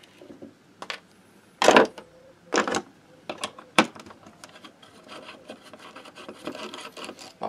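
The core of a low-voltage ignition coil is ground by hand in scattered short rasping strokes, a few loud bursts among fainter scrapes, close up and without speech.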